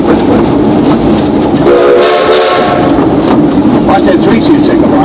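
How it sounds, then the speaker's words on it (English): A train rumbles along as a whistle sounds three short toots midway, loud and close over the steady rolling noise. "give us 3 toots on that whistle"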